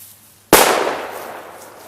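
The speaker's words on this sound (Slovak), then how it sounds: "V pohodě, vybuchlo to vo vzduchu." An airsoft grenade bursts in mid-air during an outdoor airsoft game: one sharp, loud bang after a quiet moment, trailing off into a fading rumble.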